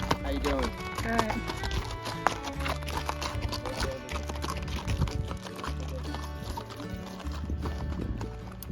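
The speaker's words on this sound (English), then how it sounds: "When a mule train approaches, it's important to step off the trail on the uphill side" A mule train's hooves clip-clopping steadily along a Grand Canyon trail, close and rhythmic, with people talking over the hoofbeats.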